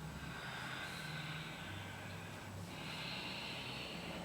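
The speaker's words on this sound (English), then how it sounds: "Start with those deep inhales in through the nostrils and the deep exhales out of the nostrils" Slow, deep breathing in and out through the nostrils during a hatha yoga flow, a steady airy rush over a low background hum with no spoken voice.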